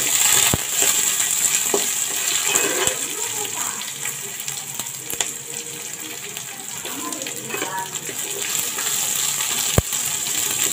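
A steady sizzle of frying small onions fills the clip, with occasional clinks of a utensil against the pan and faint stirring noises.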